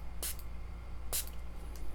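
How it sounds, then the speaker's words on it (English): Two short, sharp hissing bursts of spray paint, spaced about a second apart, then a fainter puff near the end. "we can spray that for a little bit of texture"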